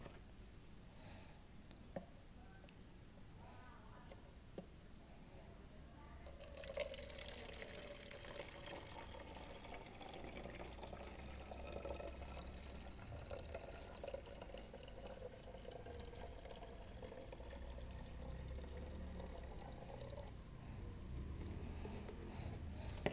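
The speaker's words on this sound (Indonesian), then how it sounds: "kita masukkan ke wadah yang untuk cairan A" Liquid concentrate A for a hydroponic AB mix is poured into a container, starting quietly and then becoming a steady, fairly faint stream of running liquid that lasts about sixteen seconds.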